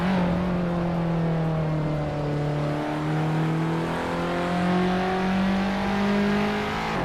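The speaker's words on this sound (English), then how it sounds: "the race has just kicked off at the Hockenheimring Vintage GP" Vintage race cars, including a 1956 Maserati 450S, accelerate away from the start at the Hockenheimring Vintage GP, their engines droning loudly and steadily as the pitch slowly climbs and several motors overlap.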